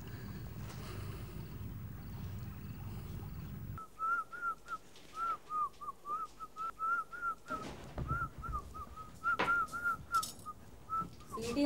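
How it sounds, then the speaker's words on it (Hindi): A person whistles a tune in short, repeated melodic phrases, fairly close and clear, over a steady background of low rumbling noise that drops away partway through. "सीटी मारना बंद कर"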